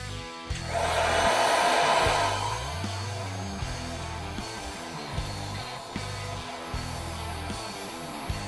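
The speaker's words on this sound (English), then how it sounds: "then you get your heat gun" A heat gun blows a steady, loud whoosh while shrinking heat-shrink tubing over freshly soldered wires, swelling at first and then settling into a continuous airy hum with no talking.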